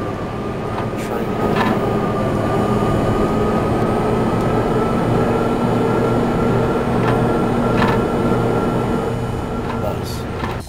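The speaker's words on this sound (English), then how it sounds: "The train lit up like a Christmas tree. Power was back on." Train in the Max Payne PC game powering up and running, a steady loud rumbling hum with a sustained mechanical tone held throughout, occasional clanks and brief higher bursts on top.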